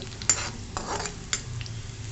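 Asafoetida sautéed in hot oil in a pan, a soft sizzle broken by a few sharp scrapes and taps of a stirring spoon against the metal, close and unhurried, with no one talking.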